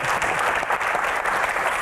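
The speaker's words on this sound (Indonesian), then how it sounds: "Tepuk tangan buat Aco" Audience applause for Aco, honoring his film Agak Lainnya at a comedy Q&A event, a steady dense wash of many hands clapping at close range with no speech over it.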